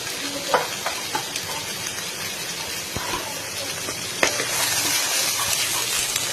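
Turmeric, Kashmiri chilli, coriander and cumin powders frying with katla fish roe in a pan, a steady close sizzle with a few scraping stirs and knocks, no talk.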